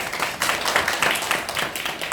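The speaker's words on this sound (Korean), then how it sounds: "박수 한번 쳐주실까요?" Audience at a skincare lecture claps together in a steady burst of dense, overlapping handclaps at moderate volume throughout, with no talking over it.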